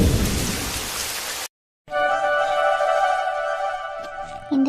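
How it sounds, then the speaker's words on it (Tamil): Heavy rain pours down in a loud, dense hiss for about a second and a half, then cuts off abruptly and gives way to steady tonal sounds. "மழை வேற இப்படி பின்னி எடுக்குது"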